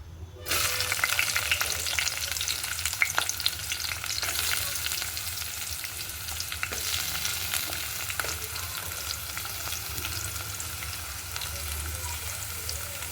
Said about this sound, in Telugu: పచ్చిమిరకాయలు, కరివేపాకు, ఉల్లిపాయలు వేగాయి ఫ్రెండ్స్